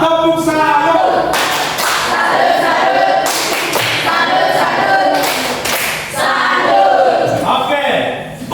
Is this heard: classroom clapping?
yes